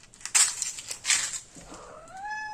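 Crinkly rustling bursts give way to a short, soft cat meow rising in pitch near the end.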